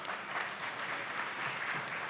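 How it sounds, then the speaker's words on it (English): A conference audience at a fireside chat on women's empowerment claps in a steady, moderately quiet burst of applause lasting a couple of seconds. "Big round of applause for her."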